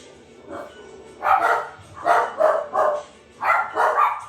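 A dog barks in short bursts, roughly six loud, close barks in quick pairs and clusters, with no talking over them.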